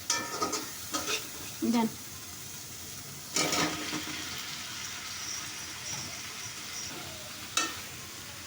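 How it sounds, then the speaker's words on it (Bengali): Spiced spiny gourd (kakrol) and potato frying in a pan, with intermittent scraping stirs and soft sizzling in a few distinct bursts; a brief voice is heard once. "মশলা কষানো শেষ, অ্যান্ড কাঁকরোল আর আলু দিয়ে দেবো।"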